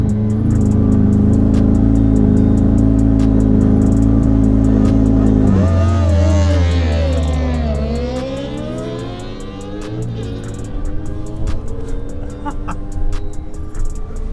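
At a drag race launch, an R1 superquad, a McLaren and a GSXR motorbike accelerate hard together, a loud engine roar swelling then fading into the distance with rising, overlapping revs.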